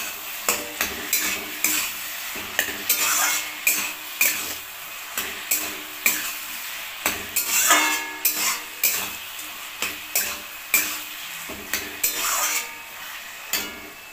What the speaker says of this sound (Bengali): উচ্ছেগুলো দিয়ে আমি আবার নাড়াচাড়া করে নেবো।